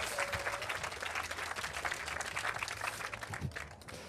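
Audience applause at a talk, a dense, steady burst of clapping from a crowd throughout, with faint murmuring underneath.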